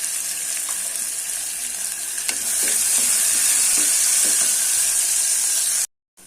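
Onion and garlic frying in a pan for tomato kuzhambu, a steady bright sizzle with a few stirring scrapes midway, close and loud, then a sudden brief cut to silence near the end.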